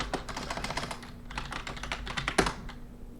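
Git commands are typed on a computer keyboard in quick, uneven bursts of close, crisp keystrokes, with a few louder key hits near the end and no talking.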